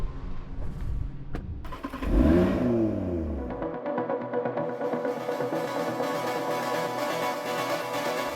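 A Hyundai RN22e all-electric, all-wheel-drive concept car drives on a long racetrack. A sweeping pass comes in around two seconds, and then a steady, sustained motor whir with a high tone carries on through the rest of the run. No voices are heard.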